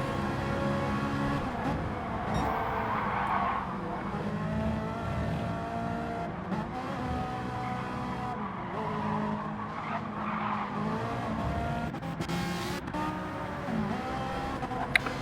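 An Alfa Romeo race car in a racing video game at Mount Panorama rolls into the pits, a steady engine drone with tire squeal and shifting tones throughout, no talking.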